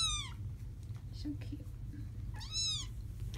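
Three-week-old foster kittens give two high, thin meows, one at the start and one near the end, close by, with faint household sounds and a brief spoken word in between.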